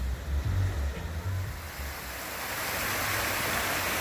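Roadside waterfalls near Amicalola Falls pour with a constant broad rush of water, loud and steady, with low rumbling thumps early on that fade as the roar continues alone.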